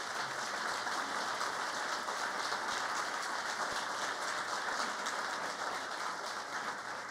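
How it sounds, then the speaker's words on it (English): Audience applause for a mayor's administration team at a State of the City address in Kenner, a faint, steady wash of many hands clapping from across a large hall, unbroken throughout. "Round of applause for my team."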